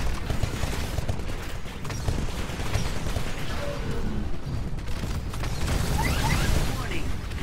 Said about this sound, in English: this is a quad rocket launcher, as you will be able to see here in a moment. Launches those rockets.